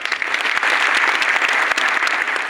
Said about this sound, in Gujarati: ગમી હોત તાળી પાડજો.